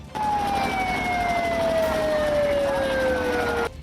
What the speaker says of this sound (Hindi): रैली में भीड़ की वजह से वहां से गुजर रही एक एम्बुलेंस को काफी जद्दोजहद करनी पड़ी